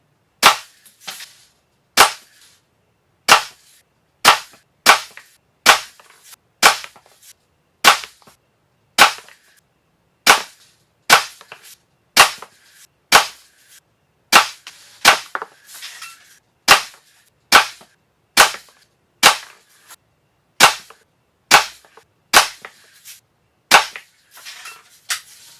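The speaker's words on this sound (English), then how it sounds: "just as quick as I'm shooting it. Yep, it's pounding in there pretty good." Daisy Buck Model 105 BB gun fired over and over, each sharp crack spaced about a second apart in a steady rhythm, loud and close with short pauses between shots.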